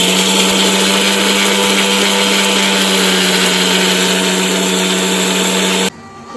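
A household mixer grinder whirs loudly and steadily, grinding masala for curry, a strong continuous motor drone with a bright high whine that cuts off abruptly near the end.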